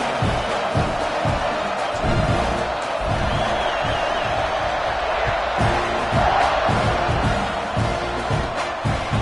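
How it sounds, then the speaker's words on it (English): A football stadium crowd roars and cheers at a kickoff in a game against Alabama, a dense, sustained wall of noise with scattered shouts and whoops and no clear speech on top. "this crowd now ready to get behind them"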